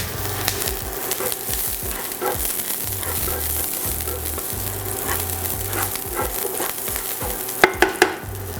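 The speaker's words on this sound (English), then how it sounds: "we're gonna get the oil hot and then we're gonna hit it with the garlic and onions" Garlic browning in hot olive oil for sweet and spicy pork adobo, with a steady, close sizzle and occasional stirring, a low rhythmic hum underneath, and a few sharp clicks near the end.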